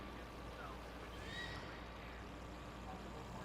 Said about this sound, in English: Oh, nope, that's my horse